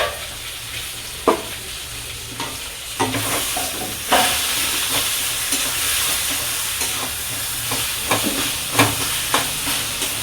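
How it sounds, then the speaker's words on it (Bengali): Taro greens seasoned with a little ground cumin are stirred in a frying pan, giving a steady sizzle with repeated scraping and stirring strokes and sharper clicks throughout, with no talking. "দিয়ে একটু ভালো করে এটা নাড়বো"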